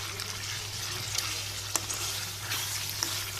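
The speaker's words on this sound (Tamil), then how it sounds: "பெப்பர் போட்டு நல்லா ஒரு கிண்டிடுங்க." Beef sukka fries in a pan with pepper, giving a steady bright sizzle. Spoon scrapes and stirring clicks break through it now and then, close up with no talking.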